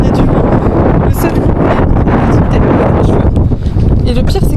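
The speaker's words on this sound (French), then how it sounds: "Il y a du vent." Strong wind buffets the microphone at a beach on Crete, a loud, steady roaring rumble with gusty surges throughout and no clear voices over it.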